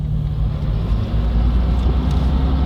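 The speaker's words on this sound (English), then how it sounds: "we're gonna see if we can capture the sound of the MagnaFlow exhaust while we're driving" Low, rumbling MagnaFlow exhaust drone from a tuned 2020 Ford Raptor on 37-inch tires, heard from inside the cab while driving, steady and continuous with road noise.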